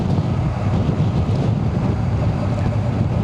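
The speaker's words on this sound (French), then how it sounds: "je suis à 50 km/h sur une moto de 106 chevaux" A 106-horsepower motorcycle cruises at 50 km/h along the Loire between Tours and Angers, its low engine drone buried under constant, heavy wind roar that stays steady throughout.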